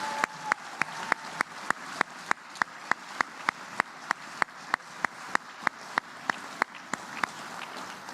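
Applause for newly commissioned second lieutenants at an Army ROTC commissioning ceremony: steady, evenly spaced single claps, fairly sparse and distinct rather than a dense crowd roar, continuing at a regular rhythm.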